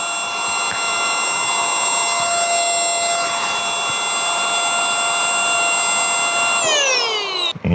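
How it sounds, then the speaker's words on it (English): A vacuum sealer pump drawing air from a travel storage bag of clothes: a steady, loud mechanical hum with a high whine runs continuously, then cuts off abruptly near the end with a falling pitch. "And now it's gonna start to vacuum seal this bag."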